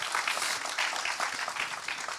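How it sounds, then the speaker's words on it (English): An audience at a talk on climate justice and human rights gives a brief, fairly quiet round of applause, a soft steady patter of clapping lasting a couple of seconds. "This is where you do a little round of applause, guys."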